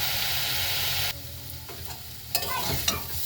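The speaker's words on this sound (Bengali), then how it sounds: "এরকম করে আমি ছাড়িয়ে ছাড়িয়ে শাকগুলো কিন্তু ভালো করে ভেজে নেব" Leafy greens frying in a hot pan, a loud dense sizzle that abruptly drops away, then softer crackling returns with sharp clatters of stirring against the pan; no talk.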